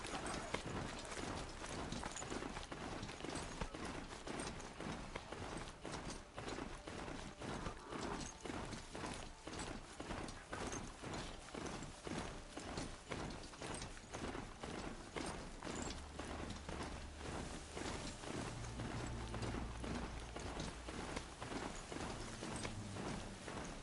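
Hooves clop steadily as a machine-like mount runs in the video game Horizon Zero Dawn, a dense, continuous gallop of rapid, even footfalls kept up throughout with no talk.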